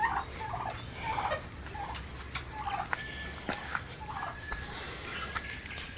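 A turkey being moved to a new pen gobbles in repeated short bursts at moderate distance over a quiet background.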